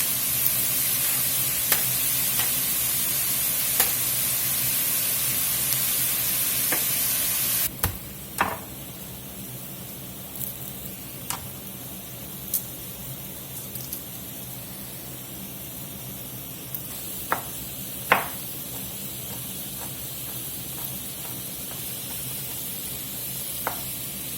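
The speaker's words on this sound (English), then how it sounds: "We're going to let these sweat down till they're mostly tender." Vegetables sweating in a soup pot give off a low, steady sizzle with occasional soft clicks and taps of stirring. A louder hiss fades down partway through.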